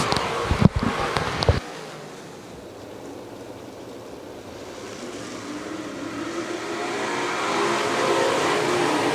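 Modified race cars roar around the dirt oval at Lernerville Speedway, a loud burst of close engine noise giving way to a distant, sustained drone of the field racing by.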